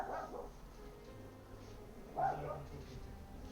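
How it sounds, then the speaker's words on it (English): A dog barks twice, a sharp bark at the start and another about two seconds later, heard faintly in the background of a quiet room. "Ah, this dog that won't stop barking."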